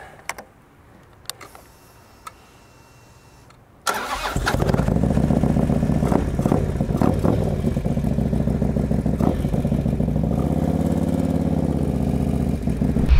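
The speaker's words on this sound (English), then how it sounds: "let's go fire this thing up and take it for a spin." A stage 4 Harley-Davidson FLHX motorcycle engine, quiet clicks at first, then a sudden crank into a loud, steady, rumbling idle that holds close and continuous to the end.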